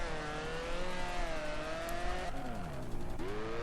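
A 4-cylinder car engine in the Drift Streets Japan racing game revs steadily, its pitch climbing, dipping sharply near the end, then rising again. The tone stays loud and continuous, with no talk over it.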